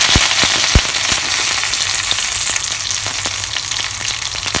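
Curry leaves, with mustard seeds and green chilli, spluttering and crackling in hot oil for a green beans and potato stir-fry: a dense, loud, continuous sizzle with sharp pops scattered throughout.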